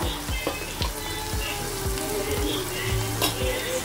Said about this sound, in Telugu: ఇప్పుడు ఉల్లిపాయలు బాగా కలుపుకున్నాం కదండి